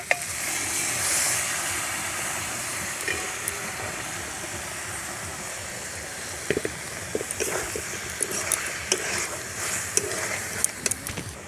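Chicken ghugni with peas stir-fried in an uncovered pan, a steady close sizzle and hiss with scattered scraping stir strokes growing more frequent toward the end, no voices.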